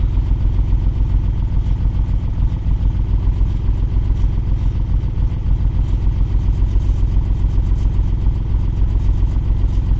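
A Ford Granada Mk1 engine runs steadily close by, its note holding even with a slight dip, loud and alone with no voices over it.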